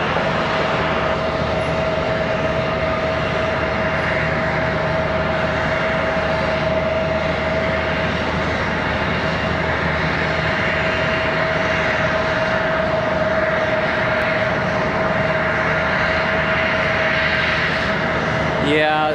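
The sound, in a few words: airplane at Charlotte Douglas International Airport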